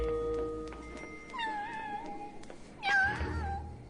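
Cat meowing in an animated film, two or three distinct mews with rising and falling pitch, fairly close and soft, the last one louder, no voices over them.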